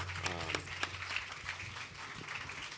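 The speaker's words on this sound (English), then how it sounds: "Can we pause and just clap for that?" Audience claps at a panel event on Black culture, media and democracy, heard as a faint, scattered patter of hands under a low background hum, with a few sharper claps near the start.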